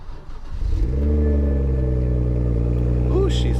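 A BMW 135is engine turns over and settles into a steady, loud idle with a low rumble, rising slightly in pitch near the end.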